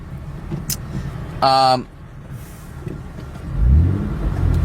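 Cars arriving on a residential street: a passing engine hum, a short loud tonal burst like a horn or brake near the middle, then a deeper vehicle rumble swelling toward the end.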